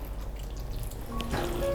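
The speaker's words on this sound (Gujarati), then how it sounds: "અને ત્યારબાદ આપણે તેમાં થોડું પાણી એડ કરી દઈશું" Water trickles and drips into a pot of Mexican rice, quiet at first and then louder toward the end, with a brief splashy pour close by and no voices.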